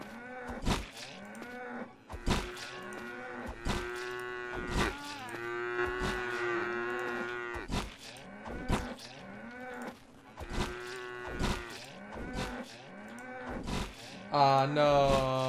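Cows in the Craftopia video game moo repeatedly, long tonal calls overlapping in an uneven rhythm and punctuated by sharp clicks and thumps, with occasional faint talk beneath.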